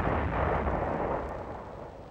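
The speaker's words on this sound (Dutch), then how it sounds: "Tijdens het inschieten vuren slechts twee stukken." Field artillery battery firing ranging shots, with only two guns firing: a heavy, loud boom that rolls into a broad rumble and slowly fades over about two seconds, with no voices.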